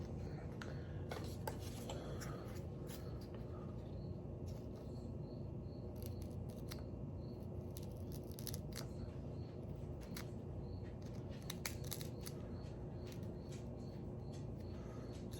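A knife blade is rubbed against a convex hone to clear swarf, giving a steady low scraping hiss broken by scattered faint clicks and ticks, close and continuous with no talking.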